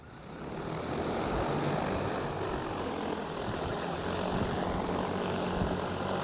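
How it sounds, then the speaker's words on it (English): An XAG P100 Pro agricultural spray drone flies outdoors, its propeller roar swelling as it approaches and then holding loud and steady, with no voices. "There you see the XAG's coming back"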